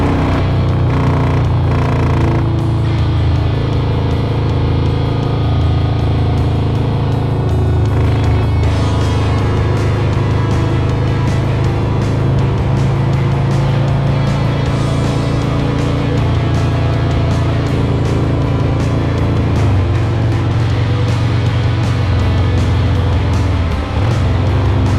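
A 2020 Harley-Davidson Road Glide Special motorcycle engine runs steadily and loudly throughout, a deep continuous rumble with no pauses and no talking.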